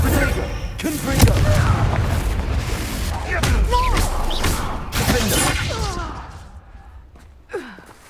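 In Hogwarts Legacy, a Confringo fire spell bursts with a loud boom and crashing impacts, followed by scattered smaller blasts and creature or character cries fading out near the end.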